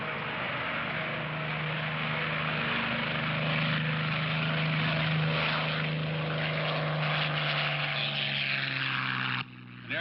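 A propeller airplane engine drones steadily and loudly with a constant tone for about nine seconds, then cuts off abruptly near the end.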